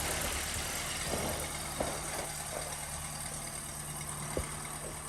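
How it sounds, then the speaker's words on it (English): A 1964 Land Rover Series IIA engine idles smoothly with a low, even rumble, a couple of faint clicks breaking through, steady throughout. "Engine runs so smooth you could balance a glass of water on top of the motor"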